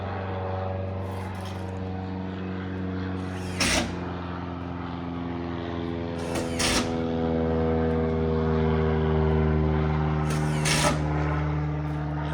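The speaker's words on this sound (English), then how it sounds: "Here's another little airplane coming over." A small propeller airplane drones steadily overhead near an off-grid cabin a few miles from a small lake, its engine hum loud and continuous for the whole stretch, with a few brief knocks on top.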